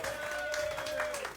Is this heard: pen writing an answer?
no